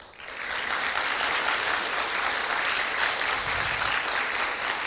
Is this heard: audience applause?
yes